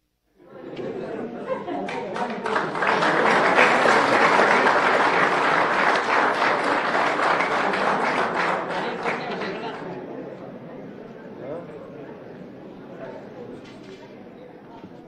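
An audience at a ceremony for the Fiesta de la Vendimia Chapaca bursts into sustained applause, swelling to a loud peak of clapping before tapering off to scattered claps and murmuring.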